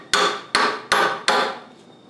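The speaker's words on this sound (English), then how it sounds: "take a hammer, tap it" A hammer taps a wooden wedge into a work-holding vise: four sharp, close, ringing knocks at a steady pace, each decaying quickly, with no talking.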